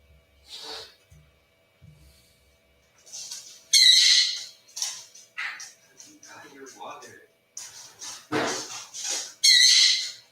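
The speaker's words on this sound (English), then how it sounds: "the bird's going to start chirping" A pet bird lets out repeated bright chirps and harsh squawks in bursts across the clip, loud and close in a home, with a few softer rustles between calls.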